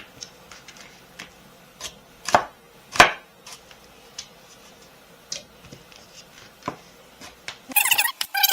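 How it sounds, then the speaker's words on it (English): Knife chopping potatoes into fry-shaped sticks on a cutting board in a kitchen: a series of sharp, separate cutting taps at irregular spacing, close and moderately loud, with a quicker rustling burst near the end. "So now I'm going to just cut it across. Cut them in fry shape."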